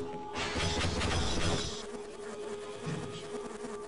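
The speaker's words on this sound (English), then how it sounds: "They basically shoot little bees. Little alien bees that don't do a lot of damage, but will hunt you down and kill you," Buzzing alien bees fired from the hornet gun in the game Half-Life, a dense, loud insect-like drone that swells early, then thins into a steadier, quieter hum with no talking over it.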